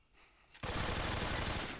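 Gunfire from the video game Metal Gear Solid 3, a sudden loud, dense burst of rapid shots breaking in after a quiet moment and continuing without pause.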